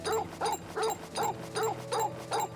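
A dog whimpers in Final Fantasy XVI, giving six evenly spaced whiny yelps close up, alone over a faint steady game ambience.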